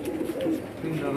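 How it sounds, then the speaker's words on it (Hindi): Pigeon cooing, a low throaty murmur repeating through the short stretch, fairly close, with a faint trace of voices nearby. "ये इनका जी एक और कबूतर है"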